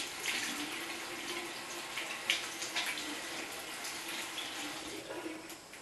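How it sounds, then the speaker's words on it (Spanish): Lukewarm water running from a tap as the face is rinsed, a steady close gush with small splashes and bursts from hands in the stream, at moderate level, no voices. "Y me vuelvo a aclarar con agua"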